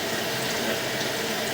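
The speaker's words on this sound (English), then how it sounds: "Flushing the toilet a little bit too, it seems that kind of helps push that" A household toilet flushes to push a clog loose, producing a steady, loud rush of water with no break, close by and without talk.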